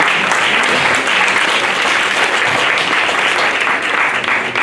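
Worshippers in a church fill the room with steady, loud clapping and cheering in praise, the dense applause holding evenly throughout.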